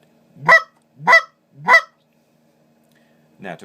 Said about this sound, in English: choppier clucks can be made by saying the word dut, D-U-T, dut, dut.